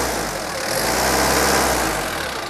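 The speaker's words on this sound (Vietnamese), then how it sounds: "Để cả tôi rồ ga đột ngột." A Toyota 1.5-ton forklift engine runs loud and steady, its mid-pitched hum swelling slightly as the throttle is opened, close up with no voices.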